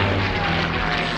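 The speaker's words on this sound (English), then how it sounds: "I got the latest model P-51 here" A P-51 fighter plane's propeller engine drones steadily and loudly, a continuous roar with no talk.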